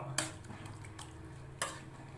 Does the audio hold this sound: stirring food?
yes